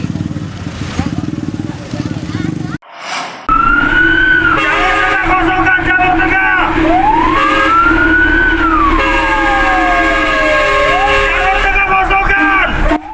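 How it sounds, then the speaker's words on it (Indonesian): Fire engines race through dense evening traffic in downtown Bandar Lampung, their loud wailing sirens rising and falling, with engine roar close by and a voice speaking over the opening seconds. "Rombongan mobil damkar tancap gas menembus kepadatan arus lalu lintas di tengah kota Bandar Lampung Rabu malam"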